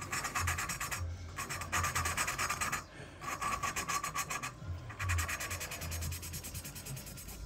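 A metal valve being lapped by hand into its seat on a Kayo T4 250 cc cylinder head, giving a close, steady gritty rasping and rubbing in repeated twisting strokes with brief pauses between them.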